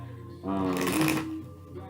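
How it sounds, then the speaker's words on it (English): Tarot cards are shuffled in a single riffling burst, bright and close, while a person talks throughout. "we're just gonna shuffle these cards a little bit more"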